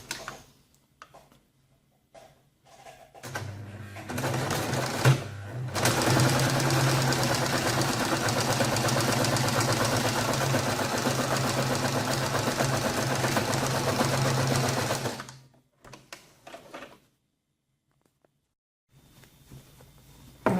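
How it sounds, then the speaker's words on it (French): Sewing machine stitching the bottom of a drawstring pouch's lining: one long steady whirring run of rapid needle ticks lasting about twelve seconds, close and fairly loud, framed by brief handling clicks and quiet gaps. "après avoir épinglé le bas de la doublure, on va le coudre"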